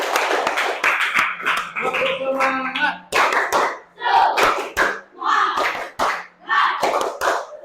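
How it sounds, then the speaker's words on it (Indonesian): A class claps hands in a patterned rhythmic chant, sharp group claps in bursts between a child's and teacher's voices. "Oke, tepuk tangan untuk kita semua."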